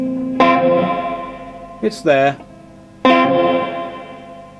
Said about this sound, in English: We're up full on the reverb, and